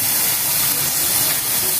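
Oil sizzling steadily in a pan of softened bottle gourd (upo) as it cooks, a continuous loud hiss with no pauses throughout.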